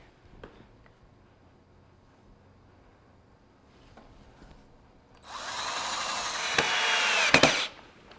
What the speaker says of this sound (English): I want you to drill these 2 holes first.